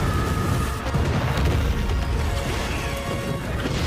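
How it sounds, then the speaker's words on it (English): A big explosion from a Venom video game roars as a sustained, dense crashing rumble with debris, loud and continuous before cutting off abruptly. "This is a nice explosion."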